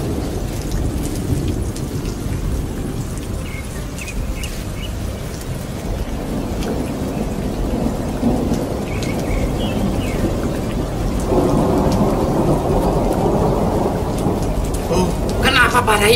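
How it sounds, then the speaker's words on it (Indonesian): Heavy rain pours steadily through a storm with rumbling thunder, the downpour growing louder in the final seconds, with no voices. "Kenapa badai ini melanda kita?"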